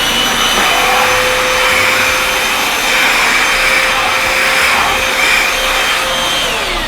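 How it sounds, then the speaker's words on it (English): A cheap upright vacuum cleaner converted to handheld dustbuster mode drones steadily and loudly with a constant motor whine and airflow hiss throughout, with no pauses or speech. "Now you have a dustbuster."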